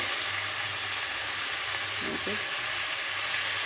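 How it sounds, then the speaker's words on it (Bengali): Tender young jackfruit and shrimp sautéing with spices in a pan, giving a steady, loud frying hiss with a low hum that continues without a break and no talking. "এটা কিছুক্ষণ কষিয়ে নেব"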